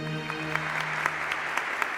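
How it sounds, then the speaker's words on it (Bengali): Steady, dense applause fills an auditorium, a continuous wash of many hands clapping that holds level for the whole span with no voices over it. "সঙ্গে সঙ্গে হাততালি, প্রবল হাততালি, সমস্ত প্রেক্ষাগৃহ জুড়ে হাততালি"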